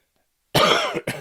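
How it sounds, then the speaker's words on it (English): A single harsh cough bursts out after half a second of silence, rough and throaty, followed by a shorter second cough right behind it. "I have got to get over this little cough I got."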